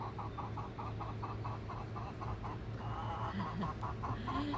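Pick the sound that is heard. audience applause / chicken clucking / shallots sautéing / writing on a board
chicken clucking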